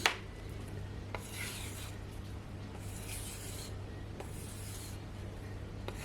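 A knife blade is drawn across a strop loaded with 3 micron paste to remove the burr, giving several soft, rhythmic rubbing strokes with brief gaps between them, faint and close, with a steady low hum underneath and no talking.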